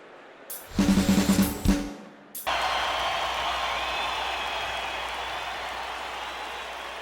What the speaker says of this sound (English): The crowd was in a frenzy, cheering and shrieking non-stop.